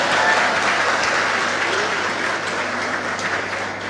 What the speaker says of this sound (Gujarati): આ તાળીઓના અવાજથી